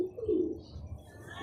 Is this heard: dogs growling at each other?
no